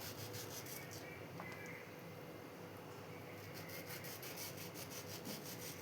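A knife cuts into a ripe, sweet, peeled mango, giving a soft, steady rasping scrape that runs quietly and evenly throughout.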